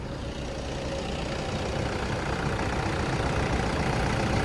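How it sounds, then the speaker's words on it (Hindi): A 2012 Toyota Innova with about 50,000 km on it idles with the AC off, a steady close engine rumble holding even throughout, no voices. "ये होता है भाई इंजन नॉइस"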